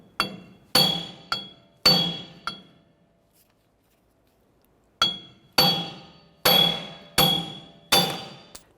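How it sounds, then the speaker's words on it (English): Hammer blows drive a wheel stud inward out of the hub on a 1994-2004 Chevrolet S-10, ringing metallic strikes in two bursts of about four and five, each clang decaying quickly, with a pause between the groups. "Simply going to use a hammer and we're going to strike it directly inward."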